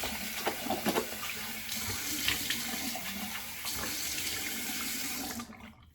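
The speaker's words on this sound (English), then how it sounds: "And then I'm going to rinse that off with warm water again." Warm water runs from a bathroom tap into a sink for rinsing, a steady close splashing stream lasting several seconds without voices before cutting off at the end.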